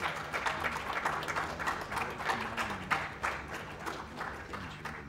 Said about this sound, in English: Didn't even need to prompt the applause for that one.